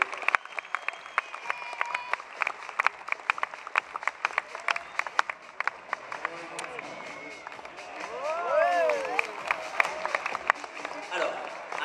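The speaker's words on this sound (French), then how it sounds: "sous vos applaudissements, s'il vous plaît." An audience claps for Adam Braga as he steps up at a trial event, with a dense spatter of applause throughout, brief whistled tones near the end and a rising crowd swell.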